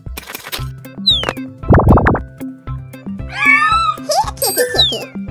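Cartoonish cat meows from the Super Granny 3 video game, heard in the Transylfangia levels. They come in short, bright, rising calls against a bed of plinking game music and scattered sound effects.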